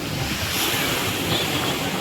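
Heavy sea waves at Velankanni beach during coastal erosion and flooding, a continuous loud roar of surf mixed with strong wind buffeting the microphone, with no voices.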